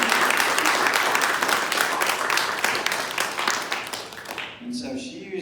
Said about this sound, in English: So let's give Jessica a round of applause for that.